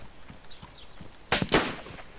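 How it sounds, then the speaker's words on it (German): Two or three sharp gunshots crack in quick succession in the video game DayZ, loud against a quiet background with faint rustling. "ich hörte auch die Schüsse"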